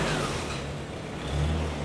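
A 1949 Jeep Willys Jeepster with a 2.2L L-head four-cylinder gas engine runs close by, a steady low engine rumble that swells slightly near the end.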